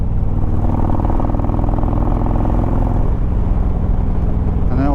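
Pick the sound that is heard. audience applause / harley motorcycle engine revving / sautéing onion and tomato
harley motorcycle engine revving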